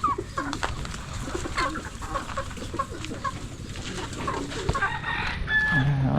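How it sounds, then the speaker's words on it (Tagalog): A flock of chickens feeding outdoors, clucking and murmuring continuously at close range, with occasional sharper calls and a rooster-like crow mixed into the busy background. "Sarap panoorin ng mga manok kumakain."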